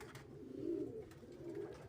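Pigeons coo softly in low, rolling, throaty bursts, faint and fairly close, with quiet background ambience and no talking.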